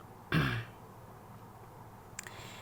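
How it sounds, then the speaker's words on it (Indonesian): A single short throat-clearing cough up close, followed by a faint small breathy sound in otherwise quiet surroundings. "Agak ada batuk-batuk dikit"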